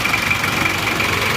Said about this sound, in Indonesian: Enak ya suara mesinnya.